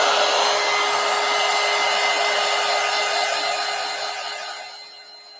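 A hair dryer blows steadily on wet paint on a collage, a loud, close whooshing hum with a faint whine that fades slightly as it is shut off at the end, no voices.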